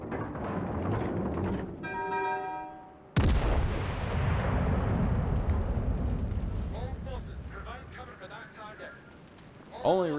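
A battleship in World of Warships Legends fires high-explosive shells: a sudden loud, booming salvo breaks in, then rolls into a long rumbling tail with more distant blasts, while a voice talks underneath.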